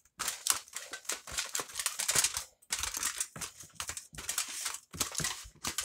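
Long sheet of heavy duty aluminium foil crinkling and crumpling in close, bursty handling, loud rustling spurts with short pauses between them, no voices.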